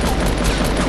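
Gunfire in Fortnite, a dense, loud burst of rapid overlapping shots forming a continuous crackling fusillade across the whole second, with no talking over it.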